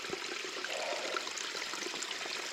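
Orange acid mine drainage trickling from a nearby mine on a rocky trail, a steady close watery wash that runs on without pause.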